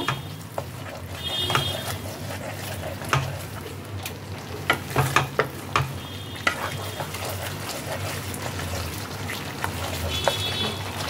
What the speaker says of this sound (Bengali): দিয়ে সমস্ত মশলাগুলোকে আবারও একবার মিশিয়ে নেব।